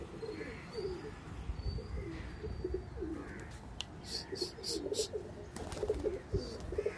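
Pigeons coo repeatedly in a low, rolling rhythm close by during high-flyer training, with scattered chirps and brief high calls overhead.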